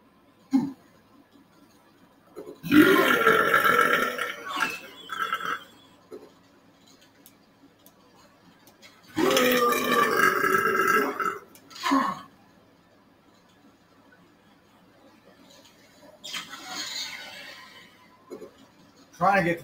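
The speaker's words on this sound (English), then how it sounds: "About to do some belching and playing some Quake." Loud belches burst out in three long rough bouts, with a short one after the first and the second, over quiet first-person-shooter gameplay in Quake on Nightmare skill.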